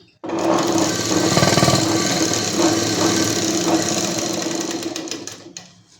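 A sewing machine stitches a kurti sleeve with a fast, steady mechanical whir and rattle that runs for several seconds, then slows and stops.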